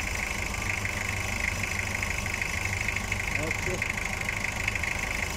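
A Toyota 2L diesel engine idles steadily after a top overhaul, a dense continuous rumble with a faint rhythmic knock running through it, while a voice speaks briefly over it.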